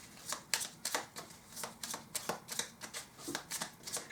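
Tarot cards are riffled and slapped down in quick, crisp bursts, a steady run of close papery flicks and taps with no voices over them.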